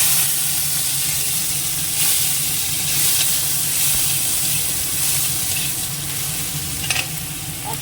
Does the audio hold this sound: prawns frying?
yes